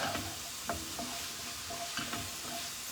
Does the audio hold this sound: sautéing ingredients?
yes